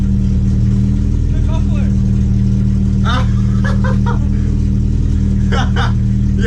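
A Volvo wagon engine revs and accelerates out on open flats during a warm-up run, a loud, steady drone with rising surges, while wind buffets and people talk over it.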